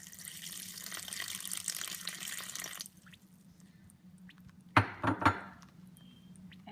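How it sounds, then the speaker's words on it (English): Water poured into a mung bean dumpling flour mixture with oil and salt, a steady close pouring splash lasting about three seconds, then quiet before a few brief knocks and clinks of a bowl or utensil. "last you're gonna put in water"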